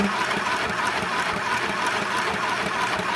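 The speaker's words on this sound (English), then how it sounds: "Once the machine gets going, it does pull, but it does take a while for it to get going." A sewing machine stitches fabric with a steady, continuous mechanical whir and fast needle rattle, close and even throughout.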